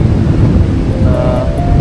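Strong wind buffets the microphone with a loud roar as sea waves surge at Devbag Beach in Malvan on a stormy day, close and continuous, with a faint tonal hum rising near the end.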